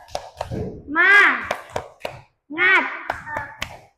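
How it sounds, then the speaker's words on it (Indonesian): Young second-grade schoolchildren in a classroom chanting together and clapping in rhythm, sharp hand claps punctuating two bursts of loud group voices. "tepuk semangat"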